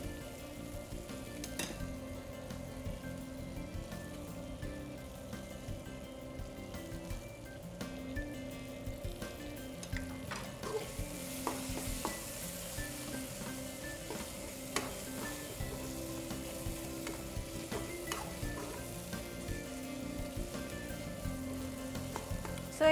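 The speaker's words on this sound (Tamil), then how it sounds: "இப்போ நம்ம க்ளீன் பண்ணி வச்சுருக்க மட்டன் பீஸஸ் இதோட ஆட் பண்ணிடலாம்." Mutton pieces frying and being stirred in a pan of tomato masala, with a steady sizzle and occasional scraping clinks of the spoon against the pan throughout.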